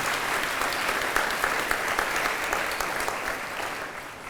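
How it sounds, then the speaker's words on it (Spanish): A church congregation applauds during a sermon, dense clapping at a moderate distance holding steady for several seconds and tapering slightly toward the end. "Denle un aplauso al Señor."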